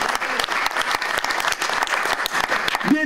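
A church congregation claps and applauds in worship, a dense sustained burst of many hands that fills the room, loud and continuous, with some voices mixed into the crowd.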